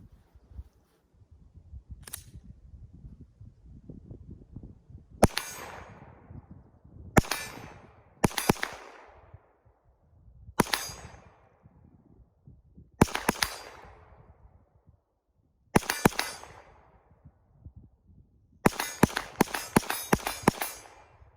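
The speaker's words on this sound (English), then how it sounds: "We'll go ahead and shoot that steel plate a little bit, do some double taps" A Glock pistol fitted with a Timney Alpha trigger firing at a steel plate: sharp, close gunshots, some in quick double taps, then a rapid string at the end, each followed by a ringing decay, with faint background rustle between.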